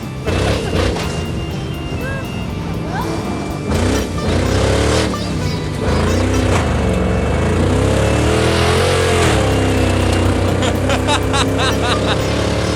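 A revived race car drifting on a dirt track, its engine roaring loud and steady with rising and falling revs, gravelly rumble and occasional bangs, heard close for the whole stretch.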